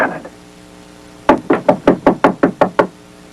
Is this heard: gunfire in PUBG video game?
no